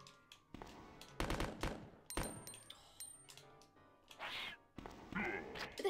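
Machine gun fire in Resident Evil 2, heard as several sharp bursts of rapid shots mixed with thuds and other game sounds, fairly close and uneven in rhythm.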